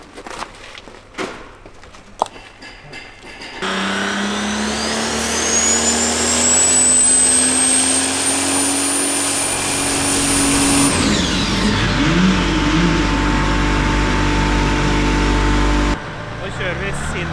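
A Mercedes OM648 diesel engine in a drift car roars through a dyno pull, its pitch rising steadily over several seconds to a loud, sustained high rev before cutting off into lower mechanical noise, with brief talk at the start.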